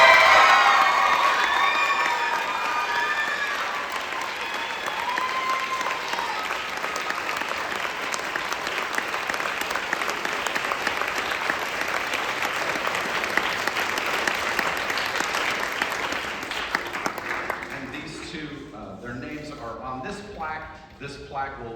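Sustained applause and cheering from a crowd at a spring school band concert award presentation, a dense roar of clapping with whoops and children's shouts lasting most of the stretch before fading, then a voice speaks.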